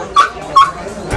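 At an outdoor dog race in La Villa de Don Fadrique, a dog gives two short, sharp yelping barks close by, over a steady murmur of crowd noise.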